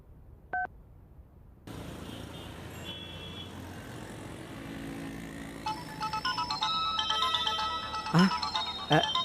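A phone ringtone chirps in repeated electronic bursts that grow louder toward the end, over steady background noise and a faint murmur.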